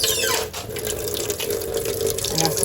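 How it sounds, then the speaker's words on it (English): Tap water runs steadily from a kitchen faucet into a sink filling with dishwater, a continuous close splashing hiss throughout. "So I'm about to run my dishwater here."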